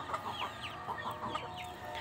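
Several chickens cluck in short, repeated bursts, moderately close, near a beach, against a steady background murmur.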